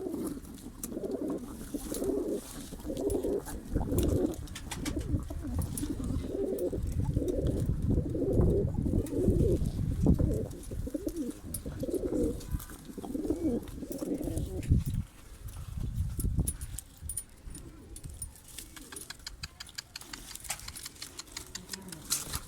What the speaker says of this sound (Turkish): Kuşlar takım takım çok güzeller.